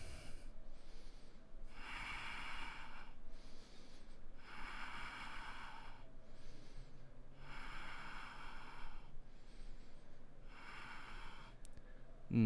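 Steady rhythmic breathing in a live yoga flow class while holding an inverted pose, with roughly nine slow, close inhale-exhale cycles, each a soft airy rush, and no talking.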